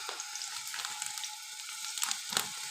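Marinated chicken pieces frying in hot oil in a pan give a steady, close crackling sizzle with scattered sharp pops, rising to a louder burst near the end, with no talking.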